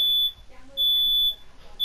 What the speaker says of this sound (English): Our smoke alarm is going off.